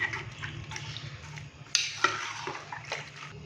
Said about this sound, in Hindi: पानी डालने के बाद अच्छे से हम इसको एक दफा मिक्स करेंगे।